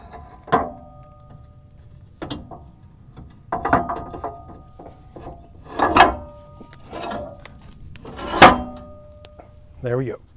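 An idler assembly is worked into a mini excavator track frame, giving several separate loud metallic clanks, scrapes and knocks spread irregularly across the stretch, with quiet gaps between them.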